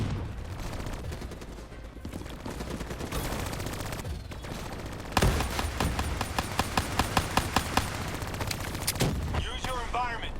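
Hijacked automatic turrets fire in a Call of Duty game: dense, continuous gunfire that turns into a rapid run of sharp, evenly spaced loud shots partway through, over a constant din of battle.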